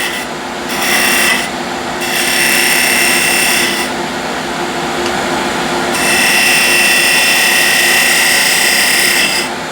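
Small skew chisel cutting a spinning all-wood salt shaker on a lathe, bursts of bright rasping scrape starting and stopping several times, then a longer sustained cut, close and loud.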